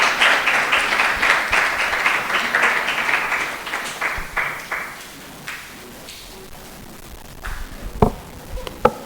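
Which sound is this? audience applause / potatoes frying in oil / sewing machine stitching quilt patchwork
audience applause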